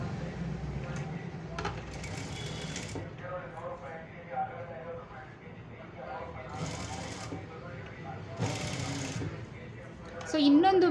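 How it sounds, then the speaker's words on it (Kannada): A sewing machine runs in short bursts while stitching piping onto a blouse, its quick rhythmic stitching fairly close and moderately loud, and someone speaks over it. "1/4 ಇಂಚು ಮಾರ್ಜಿನಲ್ಲಿ ಒಂದೇ ಈವನಲ್ಲಿ ಸ್ಟಿಚ್ ಹಾಕ್ಕೊಂಡು ಹೋಗಬೇಕು"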